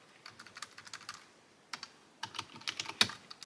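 Quick bursts of key presses on a computer keyboard while terminal commands are typed, close and crisp clicking in irregular runs with short pauses, ending in a sharper, louder keystroke, no talking.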